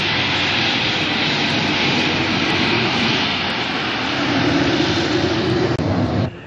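An F-15 Eagle fighter jet flies at an air show at Brunswick Naval Air Station, Maine, in 1993. Its engine roar is steady and loud, swells partway through, then cuts off at the end.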